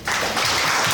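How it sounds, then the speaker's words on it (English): Audience applauding a team at a presentation event, a short, loud, dense burst of clapping from many hands that starts abruptly and stays steady. "A round of applause for the team."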